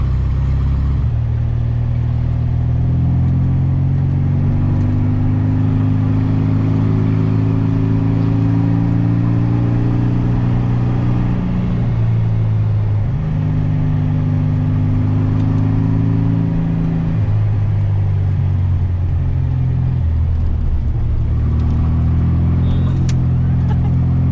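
A Baja Bug's engine drones loud and close while driving offroad, holding steady then easing and revving up again in rising and falling waves.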